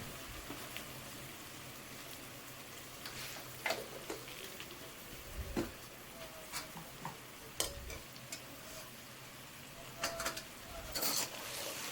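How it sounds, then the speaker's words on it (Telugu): A spoon stirs sambar mixture in a pot in a home kitchen: soft, faint scraping and light clinks at irregular intervals over a steady background hiss, with no talking. "మంచిగా కలుపుకోవాలి"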